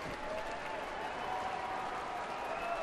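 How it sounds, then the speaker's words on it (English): A baseball crowd at a Tampa Bay game roars steadily in answer to a scoreboard prompt for noise, a dense, sustained wash of cheering and clapping with faint voices mixed in. "The scoreboard asking for noise and the crowd responding"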